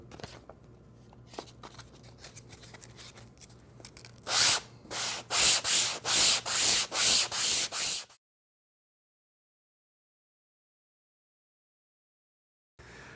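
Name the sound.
sanding wood molding with sandpaper on a block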